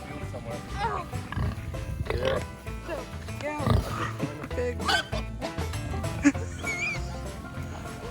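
Pigs grunting on a small farm property where pigs and chickens are raised, with animal noises scattered among people talking nearby.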